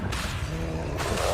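A spell swooshes in Hogwarts Legacy, heard as two quick whooshing bursts with a low rumbling tone between them, and no voice present.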